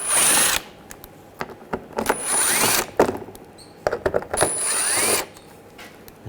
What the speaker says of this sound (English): Underneath, we're going to take these screws out, use a 8mm socket.